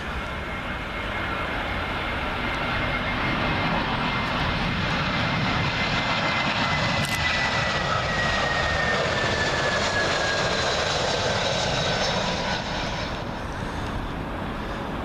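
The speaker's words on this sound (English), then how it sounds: "Up next, courtesy of our friends up in Glasgow, British Airways A320." A British Airways Airbus A320 from Glasgow lands on Heathrow runway 27L, a loud, steady jet roar with a high descending whine passing close overhead, no one speaking.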